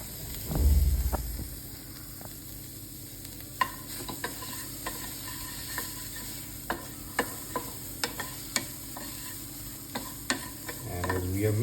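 Spices being mixed together in a pan, with soft scraping stirs and a low background hiss, punctuated by a steady series of light, sharp clicks of a utensil against the pan.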